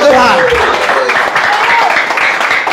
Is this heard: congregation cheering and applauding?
yes